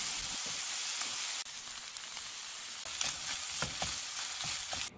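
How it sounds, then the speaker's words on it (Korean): Sliced shawarma chicken and vegetables stir-frying together in a pan, a continuous close sizzle with repeated scraping and tossing strokes from stirring, slightly louder at the start. "저는 채소들과 잘 어우러지도록 팬에 다 같이 넣고 한 번 더 볶았어요"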